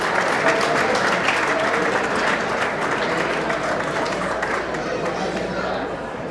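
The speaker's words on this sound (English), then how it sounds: "A round of applause," Audience applause at the 34th annual Hermes Expo awards ceremony celebrating Hellenism, a dense, steady wash of clapping filling the hall and easing slightly toward the end.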